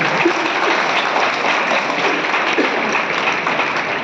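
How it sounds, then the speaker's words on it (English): Sustained applause from a large crowd at a school Republic Day celebration in India, dense and even clapping filling the whole stretch with no talking over it. "can we have a loud clap for everyone who participated?"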